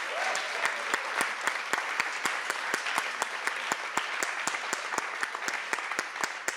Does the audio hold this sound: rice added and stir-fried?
no